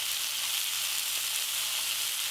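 Chicken chunks for honey BBQ chicken sizzle in a pan, a steady, fairly quiet bright hiss of frying with no voices.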